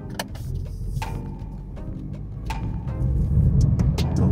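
A Suzuki S-Presso with an AGS automated manual transmission pulls away under hard throttle, its engine drone building steadily over the last second or so, with faint ticking and interior noises and no talk.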